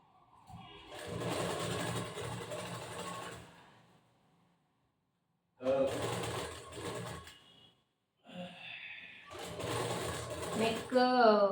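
A sewing machine stitches the back part of a blouse in three bursts of rapid whirring, with short pauses between them and a voice talking near the end.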